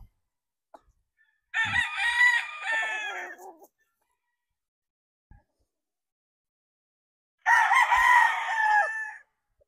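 A pure white Kelso gamecock stag crows twice, loud and near, each long cock-a-doodle-doo separated by several seconds of quiet.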